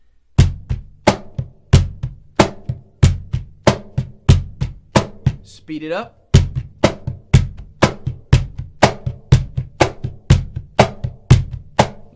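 Steady cajon groove played close and loud, with two bass notes and soft fingertip ghost notes between sharp slaps in an even repeating rhythm, and a brief spoken remark midway.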